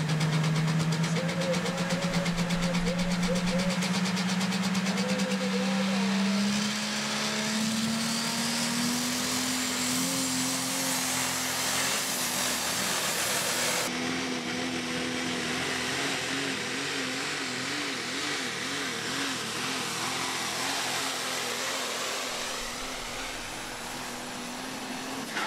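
A super modified pulling truck in the Run What You Brung class at a county fair pulling event climbs from a loud spool into sustained high-revving engine roar, pitch rising steadily, with an announcer talking over it.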